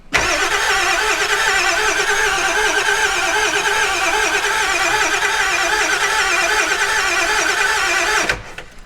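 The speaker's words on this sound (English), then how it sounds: "I'll go ahead and crank this" A Ford 7.3 Powerstroke turbo diesel in a 4x4 E350 van cranks continuously for about eight seconds, a loud, steady, rhythmic starter churn that stops abruptly without the engine catching.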